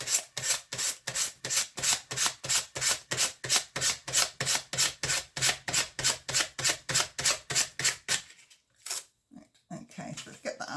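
Decoupage paper rubbed down onto recycled wood, about two dozen steady rhythmic rasping strokes close up, then a pause and some light handling noise at the end.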